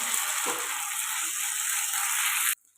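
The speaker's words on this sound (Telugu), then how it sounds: "ఒక స్పూన్ అల్లం వెల్లుల్లి పేస్ట్ అయితే వేసుకున్నాం ఇది కూడా పచ్చివాసన పోయేదాకా ఫ్రై చేసుకోవాలి" Onions and ginger garlic paste fry in a pan, giving a loud, steady, close hiss with a couple of soft stirring bumps before the sound stops abruptly.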